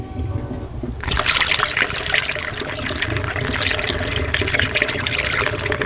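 Liquid is poured through a funnel while working on a Mazdaspeed 3 with a custom billet catch can, a continuous splashing trickle starting abruptly and running steadily close by.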